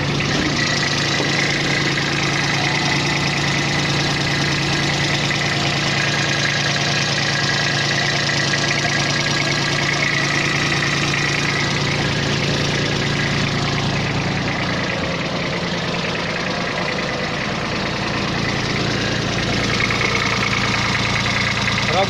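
A Kubota A195 Japanese mini tractor with a front loader idles steadily, its small diesel engine giving a loud, even, continuous rumble with a faint knocking texture and no pauses.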